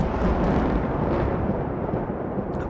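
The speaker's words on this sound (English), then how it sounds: "A blinding white light blazes all around him with a sound like the shock of a cannon." A heavy, booming shock like a cannon blast rolls out as a sustained, loud rumbling roar that fills the stretch and slowly fades, standing alone with no voices.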